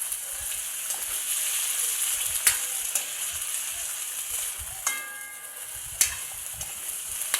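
String beans and eggplant frying in a pan while being stirred: a continuous bright sizzle with scattered crackles and a few louder spatter or scrape accents, fairly close.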